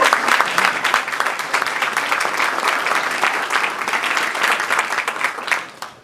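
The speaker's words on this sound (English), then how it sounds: "So I want to give him and Gretchen a round of applause." A room of guests applauds at a Veterans Day gathering at the Governor's Mansion, loud, dense and continuous, then tapering off at the end.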